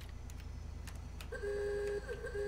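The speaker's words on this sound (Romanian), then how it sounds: "Ce claxon are. Zici că e claxon de bicicletă." Car horn in a GTA video game, a thin, high, bicycle-like tone that sounds over a low engine hum in the second half after some faint clicks.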